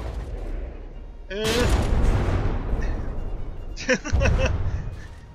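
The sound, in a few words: naval gun shells firing in the video game From the Depths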